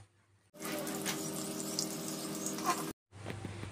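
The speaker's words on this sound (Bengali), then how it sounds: "প্রথমে কাতল মাছের পিসগুলোকে লাল লাল করে দু সাইড থেকে ভেজে উঠিয়ে নিচ্ছি" Katla fish pieces frying in oil hiss suddenly and loudly as they hit the pan, then hold a steady sizzle over a low hum. The sound cuts off briefly and comes back somewhat quieter.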